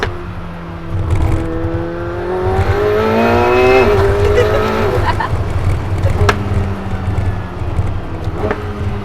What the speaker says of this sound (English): The twin turbo V8 sounds great. It's literally the smoothest feeling engine.